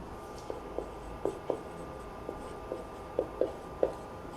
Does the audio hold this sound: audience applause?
no